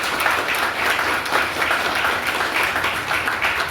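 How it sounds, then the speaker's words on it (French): A crowd applauds a union's director general at an anniversary celebration, a dense, even burst of clapping filling the hall without a break. "Je vous demande d'applaudir le directeur général"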